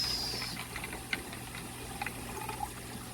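Bacardi rum and Mojito skinny mix are poured over mint and strawberry ice cubes, a faint steady liquid stream with a few small clinks of ice, quiet and close.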